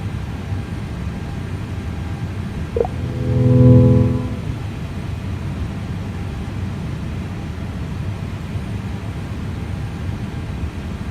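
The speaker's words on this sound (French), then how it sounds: "Je vais juste couper le son de l'avion." A steady airplane engine drone from a flight simulator on a Clermont-Ferrand to Biarritz flight, a continuous hiss-like roar with a brief swell partway through and no speech.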